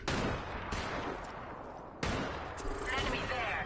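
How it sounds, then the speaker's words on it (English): Bursts of gunfire from a video game, a dense crackling volley at the start and a second sharp burst about halfway through, loud and close, with synthetic voice callouts woven under the shots. "Enemy there. Opening fire."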